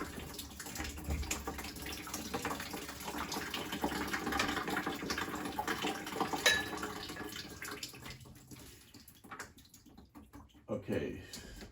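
Water pouring and splashing out of a clogged cast iron kitchen drain pipe into a bucket, a continuous close trickling wash that fades toward the end, with people talking over it.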